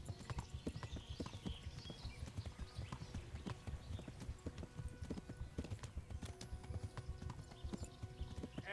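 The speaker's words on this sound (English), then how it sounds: "Come on, horse. Run for it." Horse hooves clip-clopping at a steady gallop in the medieval RPG Kingdom Come: Deliverance, a fast rhythmic drumming that stays loud throughout with occasional faint whinnies and no talking.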